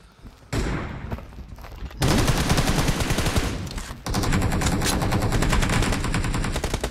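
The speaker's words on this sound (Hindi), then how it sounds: "कान के पास से निकाल दी भाई गोली" Gunfire in the mobile shooter Battlegrounds Mobile India rattles out in loud, close bursts of rapid automatic shots, three sustained volleys broken by short pauses.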